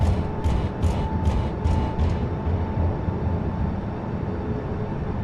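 An airliner's thrust reversers spool up after landing in a flight simulator, a steady loud roar of rushing engine noise, with several short sharp bursts early on.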